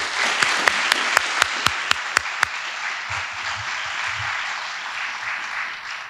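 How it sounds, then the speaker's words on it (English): Audience applause at a College of Pharmacy commencement ceremony, opening with a few loud, distinct claps up front before settling into a steady wash of clapping from a large crowd that carries on to the end. "Please join me in giving the College of Pharmacy staff a round of applause."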